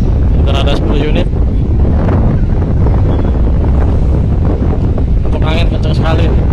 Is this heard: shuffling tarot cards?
no